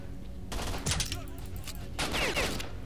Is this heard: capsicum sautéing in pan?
no